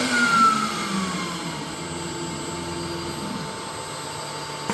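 A CNC machine spindle runs under hand-wheel control with a manual tool change setup, giving a steady, fairly loud mechanical whir with a faint falling whine and a constant hum throughout, and no voices.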